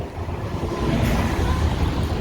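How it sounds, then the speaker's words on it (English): Wind gusts across a downtown Chicago street corner near the Chicago River, a steady broadband rush that swells louder midway with faint traffic rumble underneath. "the wind right here on this corner at this moment is very nice and comfortable"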